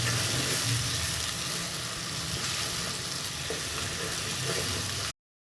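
Onions frying in a pan until brown for a restaurant-style egg and potato gravy give a steady, dense sizzle that holds evenly for about five seconds and then cuts off abruptly.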